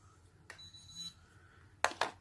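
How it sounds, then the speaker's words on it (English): A FreeStyle Libre glucose reader sounds an alarm on scanning an expired sensor: a faint, thin tone early on, then two sharp, louder bursts close together near the end, with no talking. "it gives me a little alarm and says start a new sensor to check glucose"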